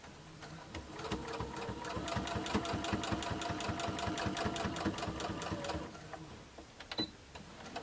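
A sewing machine stitching back and forth to lock stitches on homemade makeup wipes, a rapid steady mechanical chatter of needle strokes running for about five seconds, then slowing and stopping with a small click.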